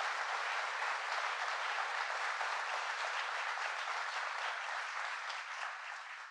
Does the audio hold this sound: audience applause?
yes